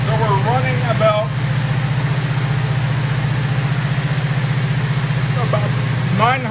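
A 1973 Mustang convertible engine idles with a steady low, even rumble and a regular pulsing beat, close by, while people talk briefly over it.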